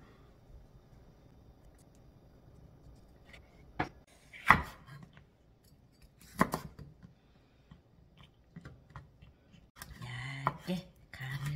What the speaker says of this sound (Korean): 가늘게 썰어줍니다.